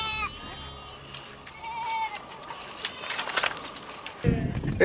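Goats kept for milk by Borana herders bleat in short wavering calls, one at the start and another midway, amid a busy outdoor background with faint voices.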